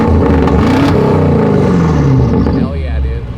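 A modified BMW V8 with a mid-pipe exhaust, stock mufflers and open exhaust cutouts, about 700 horsepower, revs hard and loud close by, a deep rasping roar rising and falling for a few seconds, with voices shouting over it.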